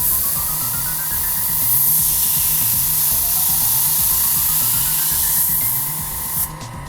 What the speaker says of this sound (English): move the airbrush close to the canvas, then far away, then back and close